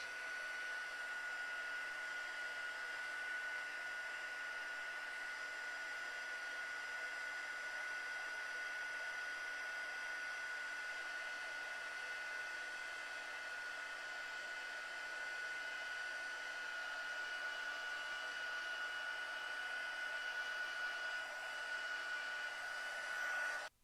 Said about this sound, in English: I'm going to bring in my heating tool, and then we're going to watch this melt